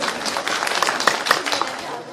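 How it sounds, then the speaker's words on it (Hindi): Audience applause and clapping at a Hindi poetry recitation, a steady wash of many hands filling the hall, moderately loud and continuous throughout. "एक बार मुझे तालियां बजा के आशीर्वाद दे"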